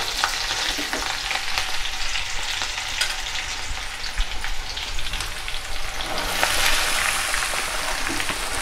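Okra sizzles and fries steadily in a pan with green chillies and garlic, a dense continuous crackle that swells a little louder near the end, with occasional stirring scrapes and no talk.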